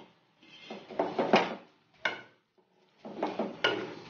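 A spoon stirs fried raw papaya through bubbling sugar syrup in a pot, making a few close, distinct bursts of scraping and knocking against the metal, separated by short silences.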